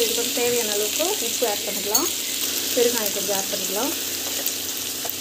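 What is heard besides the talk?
onions sautéing in a pan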